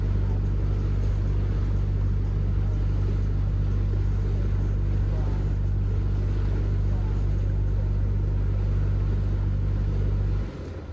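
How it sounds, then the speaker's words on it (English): A motorboat engine drones steadily on a boat excursion in Greece, a loud, constant low rumble with wind and water noise that cuts off abruptly near the end. "We went on another little excursion on a boat."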